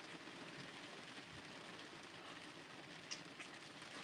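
Steady rain falling outdoors, a faint, continuous broadband hiss with no voices and only a couple of tiny brighter ticks.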